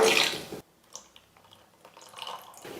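A short burst of water splashes and pours into a mixer jar, then quieter drips and sloshing follow with brief swirling sounds.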